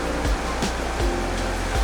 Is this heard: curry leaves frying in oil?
no